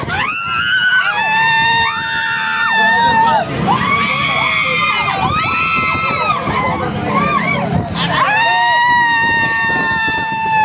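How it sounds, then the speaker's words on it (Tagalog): A crowd of people screams and shouts in long, high-pitched waves, loud and continuous, with brief dips between surges and excited voices talking among the yells. "Sigawan lang sila."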